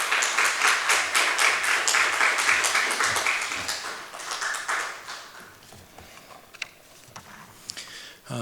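A church congregation applauds to welcome a pastor, with dense, loud clapping that thins out and fades after about five seconds, leaving a few scattered claps.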